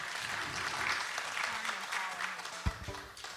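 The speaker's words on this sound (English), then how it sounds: "Give her another round of applause." An audience at a live music performance applauds in a steady wash of clapping at moderate distance, easing off toward the end.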